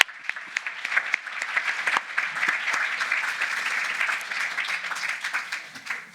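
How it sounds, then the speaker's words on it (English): Audience applause in a room at a start-up business event as speakers leave the stage, a steady dense clapping that holds for several seconds with scattered sharper claps, no talking over it. "We just one more round of applause as they go off."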